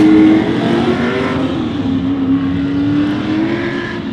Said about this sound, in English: We have Australian TransAms heading out onto the track.